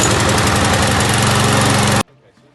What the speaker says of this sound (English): so that the lawnmower will start